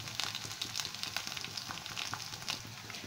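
Brinjal sautés in oil over medium heat with a faint, continuous sizzle dotted by small irregular pops and crackles, heard close with no voices.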